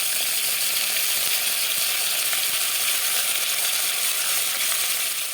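Potato pieces fry in hot oil for a katla fish curry, giving a steady dense sizzle at an even level throughout with no voices.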